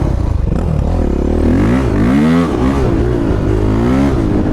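A motorbike engine revs as the rider sets off, loud and close, with a rough, rising and falling note that climbs and dips through a few throttle swells before settling.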